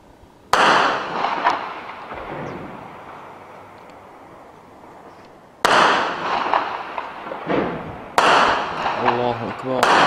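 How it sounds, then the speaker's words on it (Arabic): Heavy shelling hitting a residential neighbourhood of Homs during street fighting: three sharp, loud blasts spaced several seconds apart, each with a crackling reverberating decay, and a voice shouting after the last one. "قصف عنيف استهدف حي جورة الشياح وحي القرابيس"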